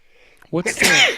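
A single sharp sneeze bursts out close up in a talk-show setting at a brewery, followed right away by a breathy vocal trailing off, with quiet room noise before it.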